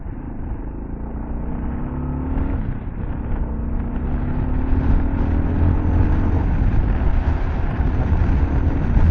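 Kawasaki KLR650 motorcycle ridden at full throttle on a gravel dirt road, a continuous low engine rumble that swells gradually, with wind and road noise, no talking.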